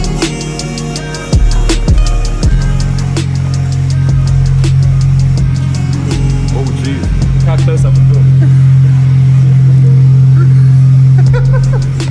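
Car engines idle and rev up close by as cars are driven into a workshop, with a low steady rumble and occasional louder bursts as vehicles move slowly.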